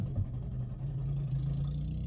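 A Chevrolet Cruze 1.4 turbo engine is running rough as it falters and stalls during a restart, a steady, close low rumble with a slightly uneven pulse and no voices.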